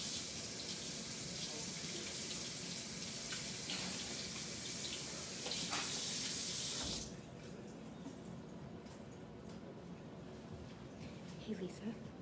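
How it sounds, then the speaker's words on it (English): Tap water runs in a steady, close splash over onions being rinsed under a faucet, then cuts off, leaving a quieter room with someone talking. "I'm gonna go run these under the water real quick just to make sure that there's no dirt in them"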